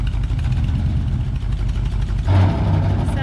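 A 1968 Ford F100 pickup truck engine running loud and close, a rough rumbling idle that rises briefly as it revs near the end.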